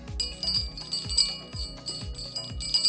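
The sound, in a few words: bell sound effect in a Unity game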